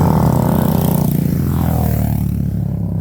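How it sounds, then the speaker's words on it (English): A motorbike roars past close by as its rider pulls wheelies in Higuera Blanca, Mexico, the loud engine note rising and then falling away as it goes by. "They like to do wheelies all over the place when they're driving their motorbikes."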